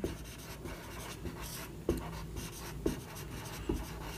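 Writing during a Bengali chemistry lesson, a few distinct scratchy strokes spaced about a second apart, close and fairly quiet, with no voices.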